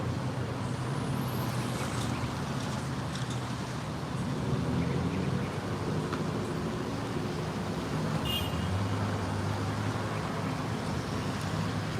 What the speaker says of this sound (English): Regular traffic here in Trinidad.